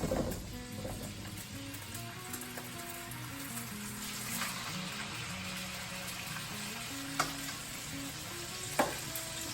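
Chicken pieces frying face down in olive oil in a pan, a steady close crackling sizzle running throughout, with a few sharper pops and utensil clicks near the end.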